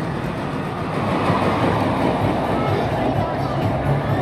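The Draco roller coaster train at Walibi Holland rushes past with a sustained roaring rumble that swells after the first second, with crowd noise in the background.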